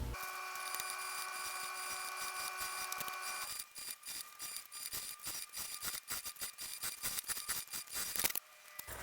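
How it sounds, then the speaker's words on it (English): A sewing machine stitching a seam along a bag with piping and binding, running as a steady mechanical whir that shifts into a faster, rattling stitch rhythm, close and continuous with no talking. "now I'm going to sew with that same seam allowance"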